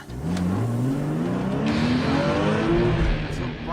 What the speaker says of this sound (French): Brian, notre formateur en sécurité routière, va rouler à 195 km/h sur le tarmac mouillé pour vérifier que c'est bien sans danger pour Jamie et moi.